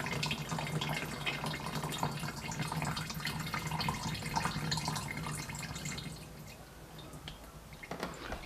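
Fluid pours and trickles steadily from a drained hose on a Mercury Optimax outboard motor being winterized, a continuous wet splashing stream that eases slightly toward the end, close and without voices.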